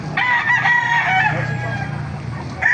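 A game rooster crows loudly and close by at a market in Baliuag, one long drawn-out call with a short second call starting at the end, over faint background noise.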